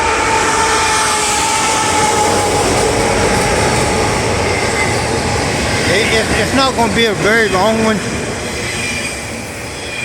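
A train rumbles past nearby with steady rolling noise and rising wheel squeal, while someone talks over it.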